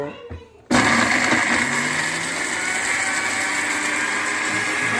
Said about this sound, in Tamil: இந்த மிக்சியில் நல்லா அரைச்சிக்கோங்க